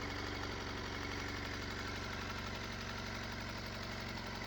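A Honda CB1 400cc motorcycle idles steadily, its exhaust giving a continuous low, even throb with a fine rapid pulse, close and unbroken, with no talk.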